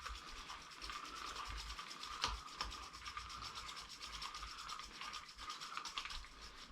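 Fishing line being wound onto a reel, a steady close rubbing whir with faint ticking running continuously, with no talk.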